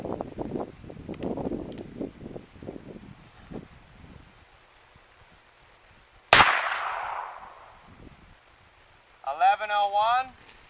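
A single sharp, loud crack from a short-barrel Browning BPR .22LR pistol fired outdoors, with a brief decaying tail, after stretches of talk and wind noise; a short electronic chirp follows.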